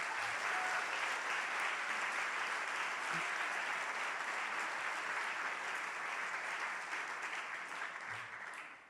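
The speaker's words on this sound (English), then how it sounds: "Let's give them a round of applause." A gala audience breaks into steady, dense applause, a full room clapping continuously for about nine seconds before tapering off slightly at the end.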